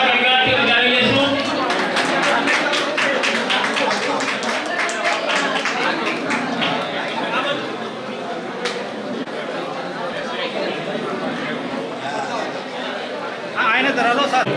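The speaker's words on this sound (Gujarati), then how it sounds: "श्री जयंत कोडिया जी विनंती કરી છે તેઓ પધારે આપણે સૌ તાળીઓના ગણગણાટથી વધાવી લેશું" At a Gujarati poetry book launch event, an indoor audience claps together in a dense burst of applause that runs on steadily with chatter and voices mixed in.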